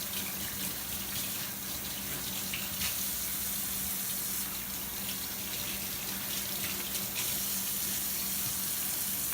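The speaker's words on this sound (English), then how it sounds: "most of the time I just run straight hot water" Hot water runs steadily from a kitchen tap into a sink during cooking, a constant close hiss and splash with a faint low hum underneath, no voices.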